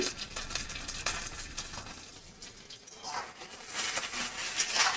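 Papaya with poppy seed paste is stirred in a pan over lowered heat, giving a soft, continuous sizzle with scraping and patter throughout, fairly faint.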